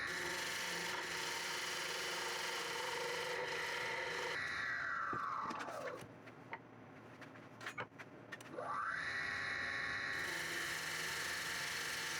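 Steady, close rasping of sandpaper on the bottom of a wooden flower pot, pausing briefly midway with a few light knocks before the scraping resumes.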